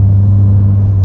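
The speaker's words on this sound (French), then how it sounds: "ligne d'échappement un petit peu plus qui prononce son petit son très sympathique" Close, loud exhaust of a 90 hp Volkswagen Golf Mk1 Cabriolet with a slightly freer exhaust line, a steady deep idle rumble over about a second with no voices.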